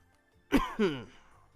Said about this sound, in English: Sorry, got a bit of chesty cough.